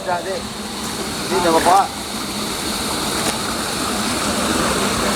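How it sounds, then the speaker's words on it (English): Steady rushing water pours continuously as a fish pond is drained, a broad wash of flow with people's voices briefly audible over it midway. "they're draining the water down out of"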